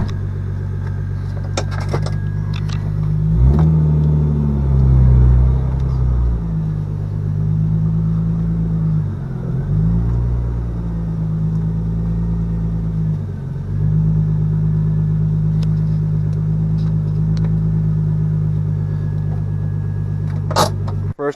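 A BMW engine rumbles close by as the car idles and creeps forward, with low throbbing swells and a few brief clicks and clunks over a steady drone.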